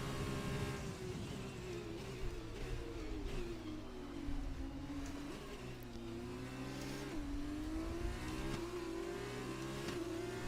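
F2 race cars in the F1 2020 video game rev and accelerate through gears, a steady close engine whine rising and falling for the whole stretch with no one talking.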